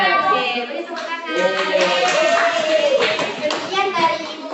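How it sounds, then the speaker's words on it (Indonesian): Applause from a classroom of students after a team-teaching lesson, steady clapping from many hands for the full stretch, fairly loud and close, with children's voices mixed in. "Oke, beri tepuk tangan."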